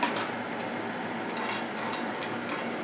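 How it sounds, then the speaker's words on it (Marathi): Almonds and cashews dry roasting in a pan, a steady soft sizzling rustle with faint scraping of stirring throughout, no voices. "मी आता हे बदाम काजू हे ड्राय रोस्ट करणार आहे।"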